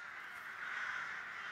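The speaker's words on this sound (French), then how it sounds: "Cette scène devrait mettre les corbeaux freux en émoi." Rooks caw in alarm in a town, a harsh, steady raucous calling that runs through the whole moment without any talk.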